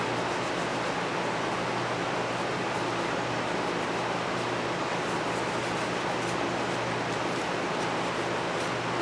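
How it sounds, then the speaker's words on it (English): A running air conditioner fills the background with an even, constant broadband hiss and low hum, faint and unchanging throughout with no talk. "I got the air conditioner going."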